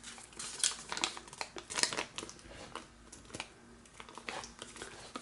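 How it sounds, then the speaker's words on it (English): Origami paper for a French flag model is creased and folded by hand, with close crinkling, sharp creasing snaps and soft rubbing in an irregular rhythm. "So you're gonna mountain fold on that crease and valley fold on this crease."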